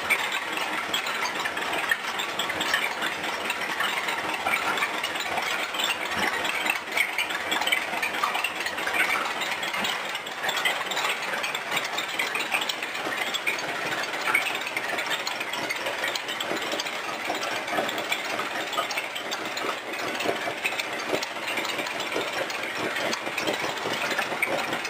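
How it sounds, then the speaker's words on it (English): A rat rod roadster engine idles steadily and evenly, running close and continuous with a faint mechanical rattle throughout and no talking. "It's running good."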